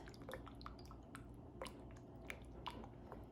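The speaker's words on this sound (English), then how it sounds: "let's stir this until it's smooth" A whisk stirring melted chocolate chips and cream into a ganache, giving quiet, steady wet squishing and light clicking against the bowl, soft and continuous with no talk.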